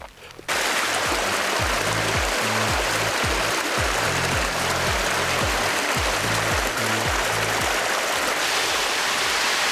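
The Crystal Cascade waterfall in Connecticut, about 20 feet tall, rushes in a loud, steady, broadband roar of falling water that starts abruptly and continues unbroken, with a rhythmic low thumping beneath it.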